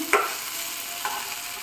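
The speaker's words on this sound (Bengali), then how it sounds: "এখানে ভেন্ডি থেকে হচ্ছে ভেন্ডি ভাজা" Okra (bhindi) frying in a pan, a short burst of close sizzling hiss with two stirring scrapes.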